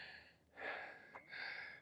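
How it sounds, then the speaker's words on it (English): Heavy, close breathing from a person at the end of the Avenue of the Dead after walking, with a couple of audible breaths separated by short pauses, faint and alone. "You'll have to forgive my heavy breathing."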